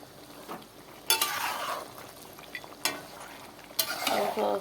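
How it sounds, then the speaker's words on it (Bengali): Mutton curry being stirred in a pot while it cooks, with several sharp scraping strokes over a steady sizzling, close and moderately loud. "খাসির মাংস রান্না করছি সবাই চলে এসো"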